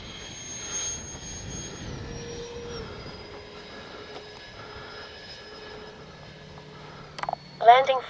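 An FMS 70mm Thunderbolt V2 RC jet flies overhead with a faint, thin turbine-like whine that shifts in pitch as it passes, and a voice speaks briefly near the end.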